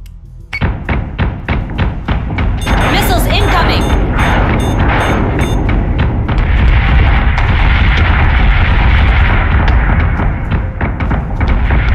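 Rapid missile launches and heavy, booming explosions fill a space battle in the game Battlestar Galactica Deadlock: a quick series of thumps builds into a loud, sustained roar of blasts and rumble.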